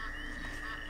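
A single frog croaks close and fairly faintly, one short raspy call with no talking.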